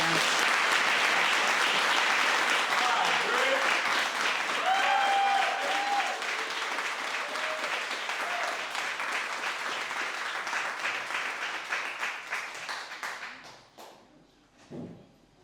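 At a Juneteenth remembrance reading event, an audience gives sustained applause after a poem. The clapping is dense and full at first, then thins out and fades away near the end, with a few voices among the crowd.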